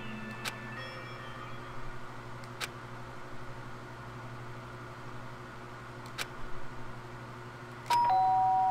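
A two-tone electronic doorbell chimes near the end of a quiet, humming stretch of the Danganronpa Trigger Happy Havoc video game, ringing loud and clear with no voices.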